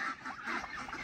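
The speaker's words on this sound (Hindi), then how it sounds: "ये रनर की सारी ब्रीड आई हुई है, चेक करें अगर आप लोग यहाँ पे, तो काफी ज्यादा डक्स है यहाँ पे" Runner ducks give a short burst of nasal honking quacks, a few quick calls close by in about a second, with no talking.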